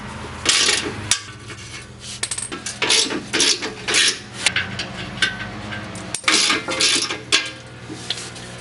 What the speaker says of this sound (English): So I'm going to go ahead and remove the skid plate out of the way.